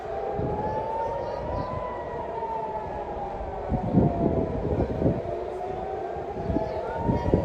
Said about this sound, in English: The sirens you can hear there are replicated across the entire country